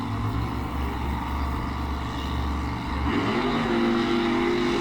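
Two monster trucks roaring side by side in a drag race at Pottsville, Pennsylvania, a loud sustained engine drone that shifts pitch and swells as they accelerate, with no voices over it.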